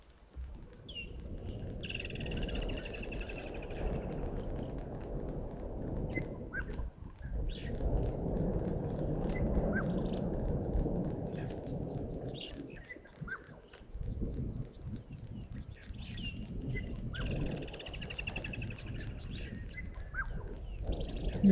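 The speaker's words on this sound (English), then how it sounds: "Nothing better than the sound of a woodland kingfisher." Birds calling around a waterhole at Gowrie Dam, including a ring-necked dove and a woodland kingfisher. Repeated high trilling calls and softer coos carry over a steady outdoor background, moderately close and continuing throughout.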